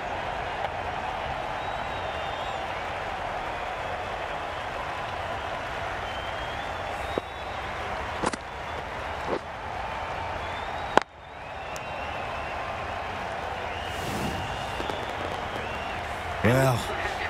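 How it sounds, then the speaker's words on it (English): Steady crowd roar with applause from a cricket match in Cricket 22, New Zealand versus Pakistan, holding an even wash of noise throughout, with a few sharp knocks and a brief dip midway, and a voice speaking over it. "The crowd are going wild."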